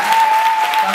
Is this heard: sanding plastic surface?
no